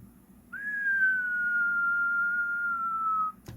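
A person whistles a single, steady, sustained tone into a Cobra 148 GTL AM/SSB CB radio transmitting on sideband. The loud, clear whistle holds for nearly three seconds against a quiet background.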